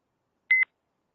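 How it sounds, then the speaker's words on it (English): A single short, sharp electronic beep plays alone against silence: a reconstructed tone from a signal sampled at 5000 Hz in a digital signal processing lab. "it's again a beep with the much sharp sound"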